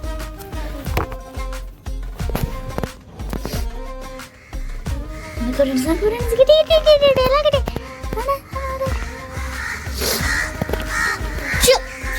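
Several crows caw repeatedly at moderate distance amid busy background noise, with a voice and other calls mixed in.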